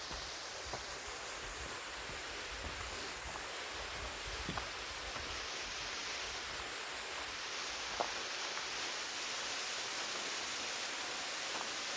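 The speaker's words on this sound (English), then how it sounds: "Probably the first waterfall that we've seen so far in Oregon." Waterfall beside a hiking trail in Oregon, a steady broad rushing roar of falling water with occasional faint rustles and clicks, no talk.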